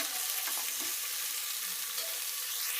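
Carrots and other vegetables are stirred in a hot pan for Coimbatore-style sambar, giving a steady, close sizzle with soft scraping stirs and no talk.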